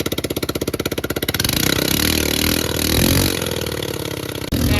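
Close and loud, a GY6 150cc go-kart engine on a freshly swapped carburetor is revved from idle, its putter rising into a rough, sustained roar that holds, dips briefly near the end, then settles back toward an idling putter.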